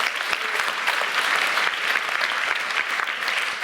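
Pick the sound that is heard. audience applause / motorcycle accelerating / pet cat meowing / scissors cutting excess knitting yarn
audience applause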